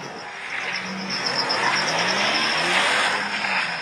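A car engine revs and accelerates on a Baltimore street, loud and close, rising steadily over a few seconds toward a person, with no voices over it.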